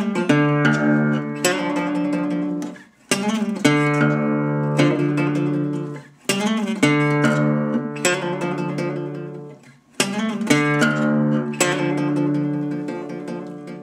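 Acoustic guitar playing in a Delta blues style, with several plucked phrases ringing out loudly and close, each broken by brief pauses and no voices.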